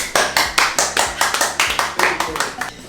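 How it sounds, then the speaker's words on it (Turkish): An applause sound effect is dropped into a home vegan cashew-cheese cooking segment: a short run of crisp, evenly spaced hand claps, close and loud, with nothing else over them. "Burada bir alkış giriyoruz"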